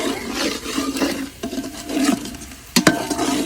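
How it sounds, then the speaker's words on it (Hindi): Hot oil sizzles and crackles steadily as garlic is added for a tempering, with a few sharper pops and spits near the end, close up and with no one talking. "तड़का लगाने लगे हैं, लहसुन का तड़का"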